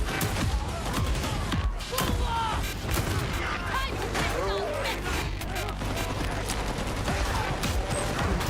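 Dense gunfire from the video game Warhammer 40K: Darktide, rapid continuous volleys of shots and impacts that stay loud and packed for the whole stretch, with voices talking underneath.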